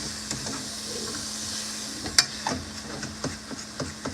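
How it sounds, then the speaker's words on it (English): Ground beef sizzles steadily in a pan while a utensil scrapes and stirs it, with scattered close clicks and scrapes over a constant frying hiss. "And you gotta really keep stirring it because you want it to be real ground up like little pieces."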